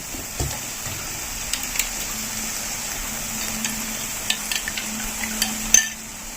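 Egg poured into softened tomatoes frying in a pan for a bread kothu dish, with a steady low sizzle and a few scattered spatula taps and scrapes as it is stirred, no talking.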